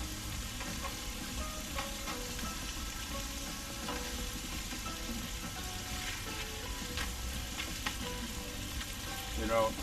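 Pork chops seasoned with granulated garlic sizzle in a non-Teflon pan at a Myrtle Beach KOA campground. The frying hiss is steady, dense and crackling, continuous from start to end at close range.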